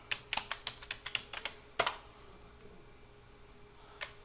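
A passphrase being typed on a computer keyboard: a quick, light run of about a dozen close key clicks, one heavier keystroke like an Enter press, then near silence and a final faint tap.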